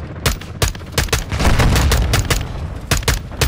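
Rapid, loud gunfire in a Call of Duty game: sharp shots crack in irregular bursts, with a dense stretch of sustained automatic fire in the middle, close and forceful throughout.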